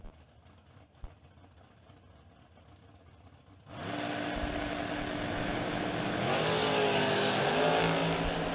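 Drag racing cars, an 07 GTO and a 68 Rambler wagon, sit quietly before a sudden loud launch into a sustained roaring engine note that holds and rises as they pull away.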